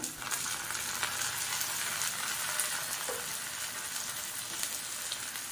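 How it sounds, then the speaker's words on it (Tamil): Curry leaves, tempered with cumin in a pan of hot oil, crackle and sizzle in a steady, dense frying hiss that carries on unbroken at close range, with no voices. "அப்படியே தாளிச்சுப்போம். பாருங்கள், நல்லா பொரிஞ்சிருச்சு."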